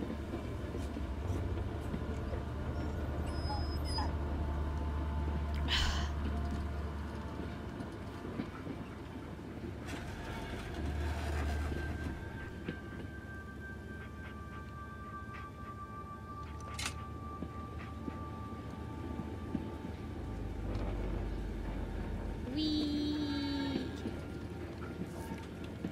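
Train ride in the video game Blair Witch: a steady low rumble of rolling rail cars with occasional clanks and metallic squeals, continuous and fairly loud with no talking.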